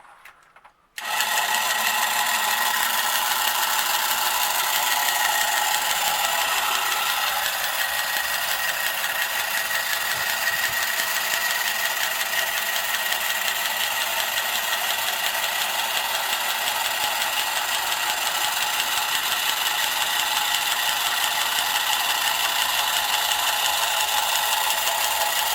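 Vintage Marx Moon Scout toy helicopter with worn internal gears, running as a loud, continuous mechanical whir and rattle after a brief click to start, no talk.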